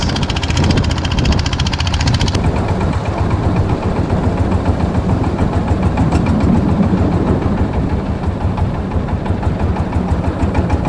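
A steady, loud boat engine drones on without pause on Inle Lake, Myanmar, a low rumbling mid-pitched motor that stays constant throughout.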